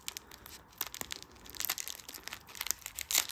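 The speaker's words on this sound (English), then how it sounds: "Let's open up the Quaxwo pack first." A fake Pokemon card pack's plastic wrapper crinkles and tears open up close, a steady run of crisp crackling with a few sharper rips toward the end; no talking.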